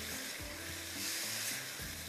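Masala with cream being roasted in a pan, giving a low steady sizzle with a few soft stirring scrapes, alone without talk.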